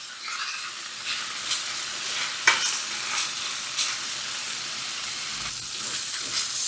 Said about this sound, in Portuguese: Vamos misturar e deixar até o alho poró e a cebola ficarem macias